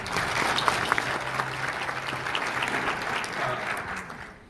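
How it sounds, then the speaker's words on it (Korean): Sustained applause from a large symposium audience welcoming a keynote speaker, steady clapping that fills the room and slowly fades toward the end. "여러분 다시 한번 큰 박수로 환영해 주시기 바랍니다"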